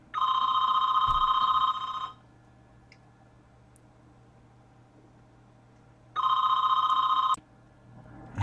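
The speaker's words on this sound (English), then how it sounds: "that was my landline ringing" A landline telephone rings loudly in two long electronic bursts, the first about two seconds and the second just over one, separated by a quiet gap of several seconds.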